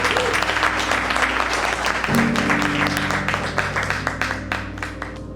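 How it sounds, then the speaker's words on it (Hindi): Dense, loud applause from an audience at a Hindi poetry recital fills the whole stretch, steady at first and gradually thinning toward the end. "और पहले एक बार जोरदार ताली हो जाए कुर्ते वाले साहब जी के लिए"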